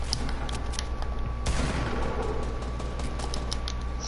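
Continuous video game gunfire: a dense, crackling volley of repeated shots with scattered sharp reports over a steady rumbling backdrop, moderately loud throughout and without speech.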